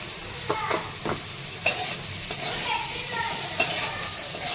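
Potatoes sauté in a pan for a simple potato sabzi, with a low, even sizzle and several distinct scraping knocks as a spoon turns them, heard close with no talk.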